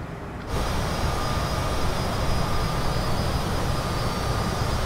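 Twin jet engines of a Citation CJ4 in Microsoft Flight Simulator 2020 surge to climb thrust, a broad steady roar with a faint whine that swells in after a short quieter moment and holds loud and constant.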